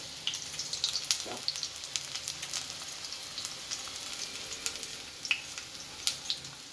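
Whole potatoes frying lightly in a pan, a moderate crackling sizzle with scattered sharp pops and spits over a steady hiss.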